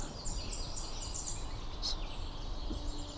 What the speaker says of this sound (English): still hear Tweety birds, still hear geese